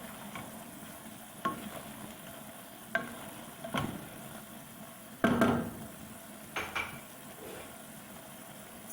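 Carrot halwa with cardamom powder stirred in a pan, a spoon scraping in several separate strokes over a faint background sizzle, close and fairly quiet with no talking.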